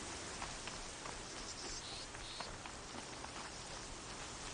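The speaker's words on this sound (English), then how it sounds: "Ooh, it's raining." Steady rainfall in the open world of the video game Horizon Zero Dawn, a soft, even hiss of drops on the ground with occasional faint pattering, no talk over it.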